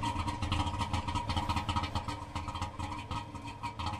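A car engine in The Long Drive runs steadily at mid pitch, idling and revving with a dense continuous drone that holds loud throughout.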